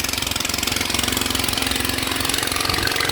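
A noisy boat engine passing on the Perlis River chugs loudly and close, a rapid steady throbbing knock with a harsh rattling drone held at constant level.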